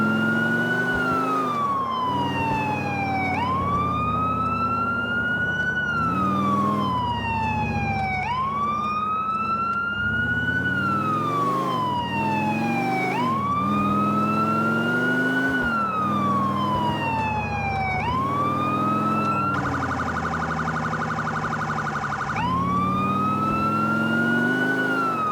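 Police car siren in the GTA 4 LCPDFR game, on a Florida Highway Patrol 2015 Charger, wailing in long rising and falling sweeps for the whole stretch, loud and close, with a brief steady electronic tone near the end.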